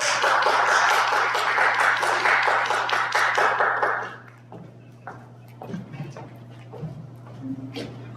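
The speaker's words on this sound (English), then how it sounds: "So let's give a round of applause to Brianna" Audience applause for a speaker at an industry talk on customer service and AI, a broad wash of many hands clapping for about four seconds, then fading into a quieter room with scattered sounds.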